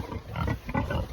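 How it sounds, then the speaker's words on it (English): Pigs on a farm grunt and snuffle close by in a short, dense burst of low, rough vocal sounds. "And good bunch of pigs."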